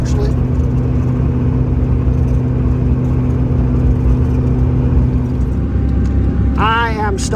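A car engine droning at constant revs while stuck in second gear on a rough road through a construction zone, loud and steady with road rumble, and a brief whine near the end.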